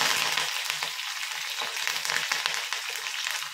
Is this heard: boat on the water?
no